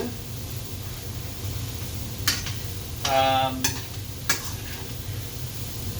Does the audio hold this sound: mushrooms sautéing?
yes